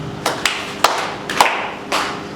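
At a church seminar, an audience claps for guests in several short bursts, a few sharp, close claps spaced unevenly across the moment.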